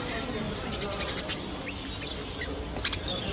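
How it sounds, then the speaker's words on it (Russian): Many small birds and budgerigars chirp in a crowded pet market, a dense wash of high twittering with brief sharper calls near the end, while people talk in the background. "Вот сколько птичек, попугайчиков."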